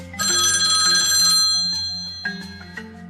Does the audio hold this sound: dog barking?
no